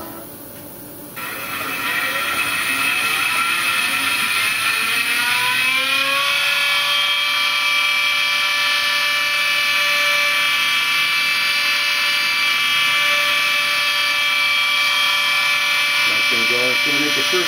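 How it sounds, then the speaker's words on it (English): A CNC milling machine begins cutting a goldsmith's ring along its tool path, its spindle whine rising in pitch and then holding a loud, steady, high-pitched drone with faint grinding variations underneath. "The machine would come over and actually start cutting that out."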